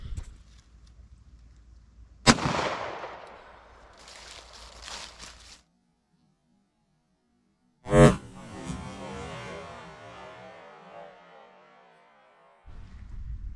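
Two sharp, loud 5.7x28mm gunshots fired into clear ballistic gel, several seconds apart, each followed by a decaying rumble and clatter outdoors, with no speech.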